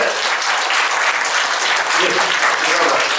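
An audience claps loudly to welcome a gratitude storyteller lecturer at a leaders' academy forum, producing a dense, sustained, close wash of applause throughout.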